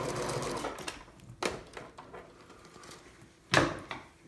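A sewing machine runs a short back stitch on a photo pillow, a quick mechanical whir with a few sharp clicks and thumps as the fabric is shifted, and nobody speaks.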